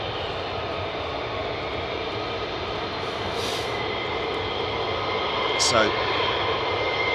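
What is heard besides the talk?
F-15 fighter jets taxiing out at RAF Lakenheath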